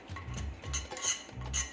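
Orange mousse being mixed with cold cream and milk in a bowl: a run of soft clinks and scraping strokes of a utensil against the dish, repeating in a steady rhythm, close and fairly quiet.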